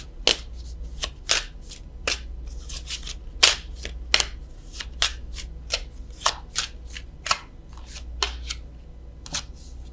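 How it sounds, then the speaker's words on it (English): Love Oracle tarot deck shuffled by hand, a run of crisp, irregular riffling card snaps and flutters close up, with no voices. "I am going to draw a love card from the French vintage stamp Love Oracle"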